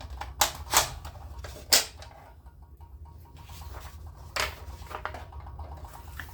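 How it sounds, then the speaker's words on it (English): Vellum paper is cut for cash envelopes, giving a few sharp, close snips and rustles with brief quiet stretches between them, followed by a light run of softer scraping. "Let's start by cutting off the paper."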